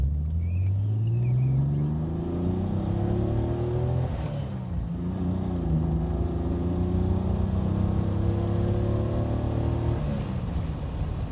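Triumph TR6 engine with a deep growl, revving up through the gears in repeated rising sweeps, each climb broken by a brief dip at the shift, loud and close throughout with no talk.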